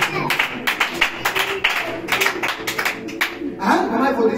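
A church congregation claps in a steady, rhythmic beat during a sermon, with sharp regular bursts close by and voices talking over the clapping.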